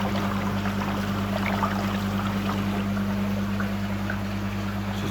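Air is forced up through carbon media inside a Big Blue filter housing during a backwash, a continuous churning bubble and gurgle over a steady low mechanical hum, close and even throughout.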